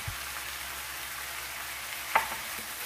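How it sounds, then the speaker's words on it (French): Spices and meat for a beef tajine with prunes are stirred in a frying pan, a steady soft sizzle running throughout with one brief scrape of the spoon near the end. "Je mélange bien le tout."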